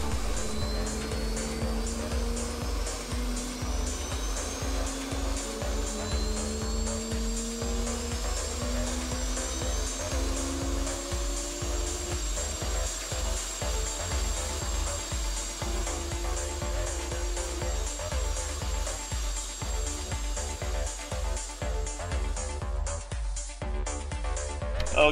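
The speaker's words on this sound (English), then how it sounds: "Here's something starting up. I think it's Porky's F-18." An F-18 jet in the FlightGear flight simulator spinning up at startup, a steady loud engine roar with rising whine tones climbing over several seconds, continuous throughout.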